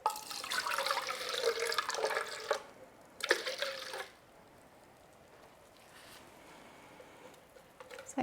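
Water pours into an Alocasia pot filled with PON mineral substrate, a loud splashing gush for about two and a half seconds, a short second pour, then quiet trickling and drips.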